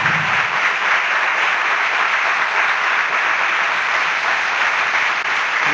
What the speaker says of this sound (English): So I'll ask them to stand so that we can give them a round of applause.